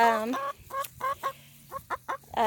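Delaware and golden laced Wyandotte chickens cluck close by in a short series of soft, clipped calls opening with a longer drawn-out note, with a low steady hum underneath.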